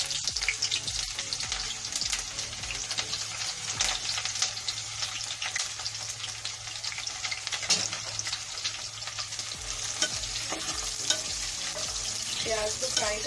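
Onions frying in hot mustard oil give a steady, dense sizzle that runs unbroken and fairly loud throughout, with occasional faint clinks of stirring.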